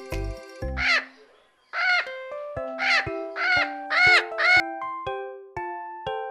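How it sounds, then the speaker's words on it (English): Parrot call sound effect in a children's animal puzzle game: a run of loud, harsh squawks in quick succession over light background music, with no talking. "Parrot!"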